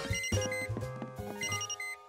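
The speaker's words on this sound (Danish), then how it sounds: "Og det er bare røgalarmen, Peter." A smoke alarm that needs a new battery gives a series of short, bright electronic beeps in an uneven rhythm over about two seconds, fairly quiet, mixed with light tonal music and no speech.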